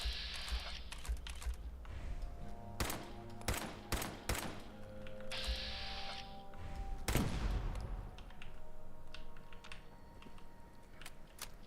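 Frag mine detonating in Fallout 4, a sharp explosive burst around the seven-second mark that decays slowly, set among game sounds and a series of clicky gunshot-like thumps earlier, with no talk.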